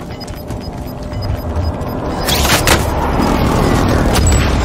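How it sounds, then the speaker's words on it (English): Explosions from an enemy precision airstrike in the Call of Duty Warzone video game, with a loud broadband blast building around the midpoint and heavy rumbling impacts continuing to the end, following a quieter stretch. "Enemy precision airstrike, take cover!"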